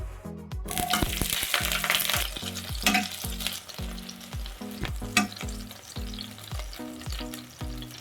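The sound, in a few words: frying green chillies, tomato and onion in oil in a pan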